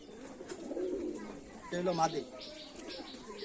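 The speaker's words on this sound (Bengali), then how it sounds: "এ তো বিশাল কবুতর দেখা যাচ্ছে" A large tiger house pigeon held in hand, giving a couple of low, close coos amid soft chatter and people talking nearby.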